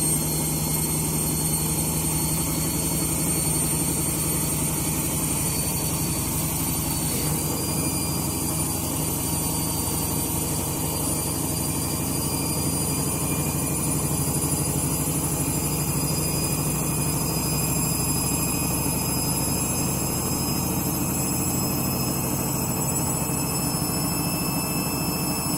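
A washing machine spins fast with worn-out bearings, giving a loud, constant droning hum with a steady high whine on top that runs unbroken for the whole stretch.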